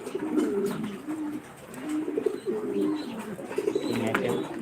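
Several pigeons coo steadily at a pigeon farm in Senbag, Noakhali, their low rolling calls overlapping close by, with faint chirps and light background noise.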